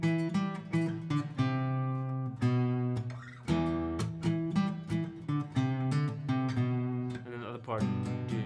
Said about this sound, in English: So the song is actually played on the fifth string